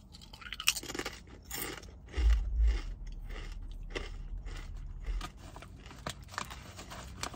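Close, crisp crunching as white cheddar chips are bitten and chewed, with irregular bursts of crackling and quieter mouth sounds between them, and no speech.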